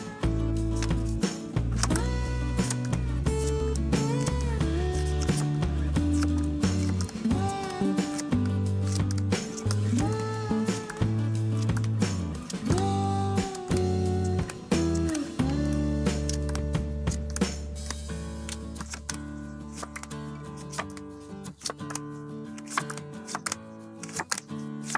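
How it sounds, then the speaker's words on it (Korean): Tarot cards being shuffled, with a steady rustle and flutter of cards running under prominent background music, growing quieter toward the end. "셔플 바로 들어가도록 할게요"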